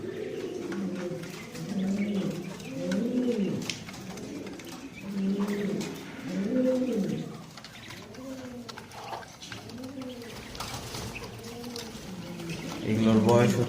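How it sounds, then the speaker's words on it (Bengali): White Giant pigeon squabs, a month old, coo in a repeated rolling series of throaty calls, close and fairly loud, with steady low background noise and a brief rattle near the end. "মাশাআল্লাহ, এগুলো সব হোয়াইট জায়ান্ট কটন স্কোয়েলের"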